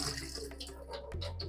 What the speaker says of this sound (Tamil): இந்த பாசி பருப்பை என்ன பண்றேன், தண்ணி ஃபுல்லாக வடிகட்டி